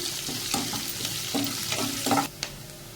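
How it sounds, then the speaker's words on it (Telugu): Green chillies frying in oil in a pan for eggplant tomato curry, a steady close sizzle with a few stirring scrapes and taps. "పచ్చిమిర్చి వేగే వరకు వేసుకోవాలి."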